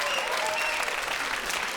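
Audience at a stand-up comedy show bursts into dense, loud applause that holds steady and fills the whole short stretch, with no voice over it.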